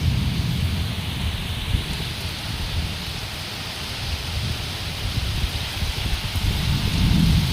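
A steady roar of heavy rain with low thunder rumbling underneath through a village downpour, continuous and close, with no one speaking.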